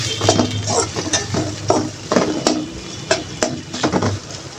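Chopped onion, garlic, bay leaf, cloves and cardamom stirred in a little oil in a pan, with steady close sizzling broken by repeated scraping, clinking strokes of a spoon against the pot.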